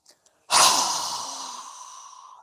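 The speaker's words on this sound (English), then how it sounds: "exhale through our mouth with a strong exhale" A single strong exhale pushed through the mouth during a yoga breathing exercise, loud and close, starting abruptly and trailing off slowly over about two seconds, preceded by faint small breath sounds.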